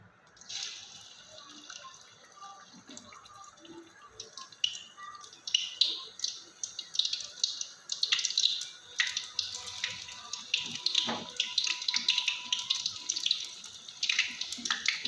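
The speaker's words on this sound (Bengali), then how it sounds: "আর একটা করে বেগুন এইভাবে চুবিয়ে দিয়ে দেব তেলটা আমার গরম হয়ে গেছে" Eggplant slices dipped and dropped into hot oil sizzle and crackle, with a thin hiss building into busy bursts of popping spatter that grow denser over time.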